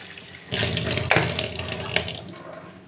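Tap water runs into a mixer grinder jar as it is washed in a sink, a close splashing gush that starts suddenly after half a second and carries on with small clatters.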